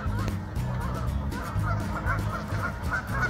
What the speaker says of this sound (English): As the geese are having a brawl over there